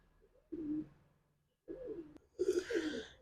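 Pigeons kept by a hobbyist give soft, throaty coos in two separate bursts, close by, with a third, louder burst of cooing mixed with fluttering or bright noise near the end; no one speaks.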